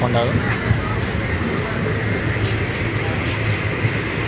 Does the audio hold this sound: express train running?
yes